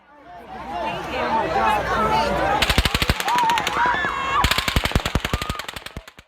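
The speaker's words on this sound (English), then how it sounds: "Trying to claim that these are bullet impacts but they come from further away" Rapid automatic gunfire from the Las Vegas shooting, captured on a phone, crackles in two long bursts of sharp shots amid a crowd's shouting and chatter, moderately loud and somewhat distant.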